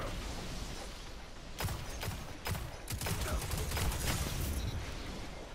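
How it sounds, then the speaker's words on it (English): Energy hand cannon shots in Destiny 2, a burst of several sharp, loud reports fired in quick succession over a busy game mix, with a player talking faintly underneath. "I'm using the energy hand cannon, bruh, and it still take a lot of hits"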